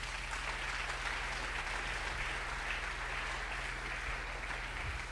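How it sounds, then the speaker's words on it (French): A church congregation applauding together, a dense, steady wash of clapping that stays loud and continuous throughout, with no voices standing out. "Est-ce que tu peux acclamer la parole de Dieu?"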